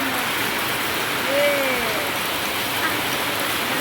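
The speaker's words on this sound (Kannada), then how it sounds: "ಕಾರ್ ಮೇಲೆಲ್ಲ ಇದ್ದಪ್ಪ ಮಳೆ ಬೀಳ್ತಾರೆ." Rain falls steadily on a car, a close continuous hiss and patter that carries on throughout, with faint indistinct voices underneath.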